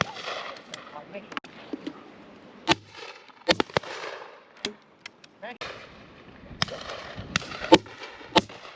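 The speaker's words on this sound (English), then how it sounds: "This is a lot of fun, this little gun." Shotgun reports at a simulated game shoot at a sporting club crack out sharply and repeatedly, several close loud shots spaced irregularly, with excited voices talking and exclaiming between them.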